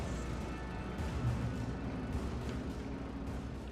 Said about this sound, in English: Cool guys don't look at the explosion.